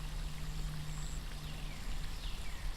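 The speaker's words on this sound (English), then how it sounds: "So you can see there's a waterfall coming down." Small waterfall in a park along a hiking trail, a steady broadband wash of flowing, splashing water with a low rumble, continuous and fairly faint from a short distance, no talk.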